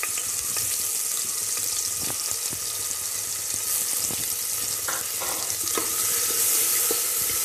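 Onions and green chillies fry in coconut oil inside a pressure cooker, giving a steady, close sizzle with a few scraping stirs and light clinks scattered through.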